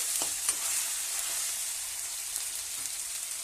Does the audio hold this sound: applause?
no